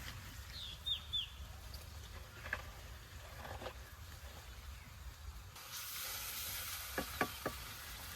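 Onion and green chilies fry in a pan, giving a soft steady sizzle with occasional stirring clinks, followed by a louder burst of hissing and a few sharp utensil knocks near the end; a faint bird chirp sounds early on.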